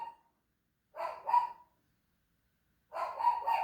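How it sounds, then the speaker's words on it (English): A pet dog named Booty Baggins barking indoors, two separate bursts of two or three sharp, fairly close barks with quiet gaps between them. "my dog's barking"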